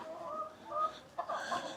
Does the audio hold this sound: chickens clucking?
yes